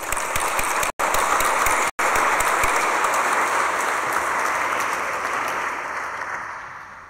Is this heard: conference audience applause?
yes